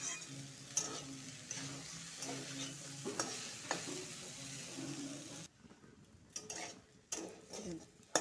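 Kalmi greens stir-fry in a pan for a vegetarian dish, with a soft continuous sizzle broken by scraping stirs and clicks of a utensil. The frying quiets partway through, leaving sporadic stirring.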